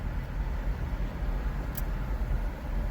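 Car driving along a road from San Jose toward Los Gatos, heard from inside as a steady, loud low rumble of engine and tyre noise with no breaks and no talk.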